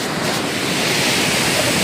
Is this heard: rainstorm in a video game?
no